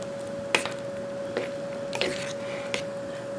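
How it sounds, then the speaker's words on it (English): Gravy for a breakfast cobbler stirred in a pot, giving a handful of soft wet squishes and spoon scrapes at uneven intervals over a quiet steady hum, without speech. "Stir our gravy."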